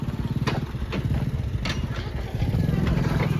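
Ninja motorcycle engine running steadily with a rapid, even throb close by, under some faint background voices and occasional clatter.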